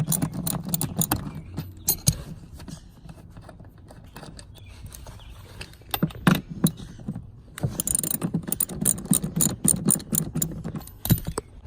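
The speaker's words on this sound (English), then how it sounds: "I'm pulling this seat out, all these 4 bolts" Seat bolts being removed from a Foxbody Mustang interior: ratcheting clicks, metallic rattles and clinks of hand tools working on fasteners, close and moderately loud, in irregular bursts with brief pauses.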